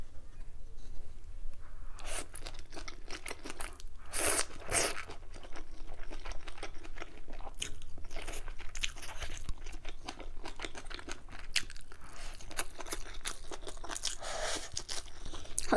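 Someone eats mala xiang guo, a spicy stir-fry pot, with rice, giving close crunchy bites and soft rustling chews in an uneven rhythm, with a few louder crunches standing out.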